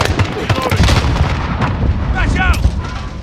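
Rapid gunfire and heavy booming shots from a Modern Warfare Domination match on the Crash map, loud and close, with bursts overlapping throughout and brief shouted voices near the end.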